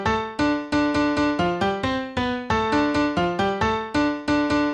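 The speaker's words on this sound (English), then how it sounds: "it will just be a piano" A MIDI lead melody rendered as a plain piano, a run of repeated struck notes in a steady rhythm with bright harmonic overtones, each note decaying quickly, close and clear with no voices.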